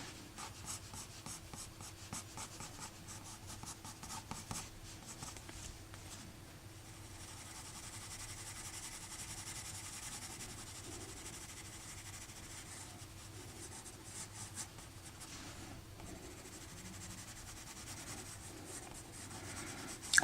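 Coloured pencil scratches across paper while drawing The Snowman, a quiet, continuous rubbing and scraping of short strokes close up, with no voices.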